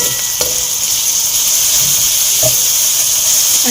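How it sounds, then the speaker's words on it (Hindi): Chopped onions frying in oil in a pan for chicken tikka masala, a steady close sizzling hiss that runs unbroken throughout, with a couple of faint stirring clicks. "प्याज देखिए यहाँ हमारे अच्छे से फ्राई हो रही है।"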